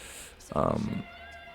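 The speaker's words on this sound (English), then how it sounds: "That's our alarm buzzer. Don't worry about it." An alarm buzzer sounds once during a women's basketball broadcast of the Las Vegas Aces against the Chicago Sky, a loud, harsh half-second blare that stands out above low background noise.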